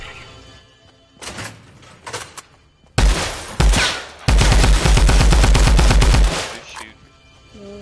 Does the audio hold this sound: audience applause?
no